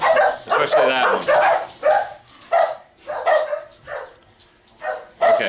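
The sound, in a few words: dogs barking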